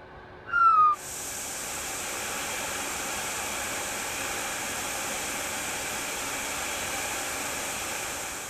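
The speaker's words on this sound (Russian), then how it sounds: "Чтобы заработал распылитель краски, надо сказать название цвета." A cartoon paint sprayer spraying orange paint, a steady loud hiss that starts abruptly after a short whistling chirp and continues evenly to the end.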